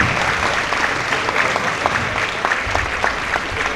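Steady applause from spectators at a football game between Seahawks and Zagłębie, with a crowd clapping continuously for a player at moderate distance and no pauses.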